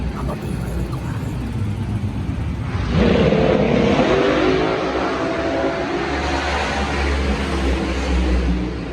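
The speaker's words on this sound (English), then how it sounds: "All these race cars going and they're just hanging out." Race cars roar past on a track, a continuous loud engine drone that swells sharply as a car comes close and then holds at a high, rushing level.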